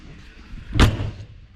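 An RV entry door on a Keystone Bullet Premier 24RKPR travel trailer is lifted and its entry ladder swung open, making one loud close clunk with a short rattling tail amid faint background noise.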